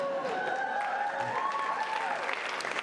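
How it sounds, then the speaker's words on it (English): Graduation audience at an interdisciplinary studies ceremony clapping steadily at close range, with a few shouted cheers and whistles rising over the continuous applause. "Please cheer as loudly as you want."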